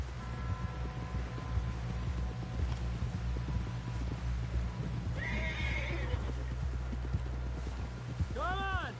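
Horse hooves clip-clop steadily at a gallop in Red Dead Redemption II, ending with a loud whinny, while voices talk over the hoofbeats and a low rumble continues underneath.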